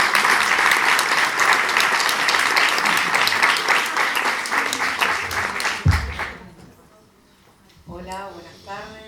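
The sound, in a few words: applause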